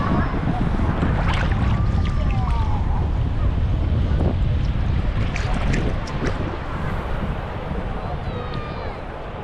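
A boat out on the sea off the coast of Turkey, with a heavy rush of water and strong wind buffeting the microphone, loud and continuous throughout, while a faint high tonal sound comes and goes.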